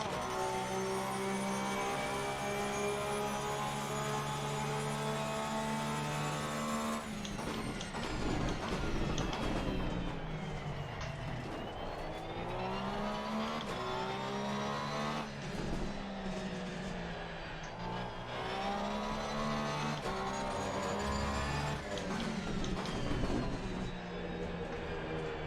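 Porsche 991ii GT3 R racing car lapping the Nürburgring in Assetto Corsa Competizione, its engine note rising and falling steadily through gear changes, with loud, close, sustained revving throughout.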